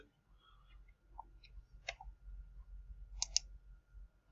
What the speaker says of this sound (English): Actually, I'm going to click textbook.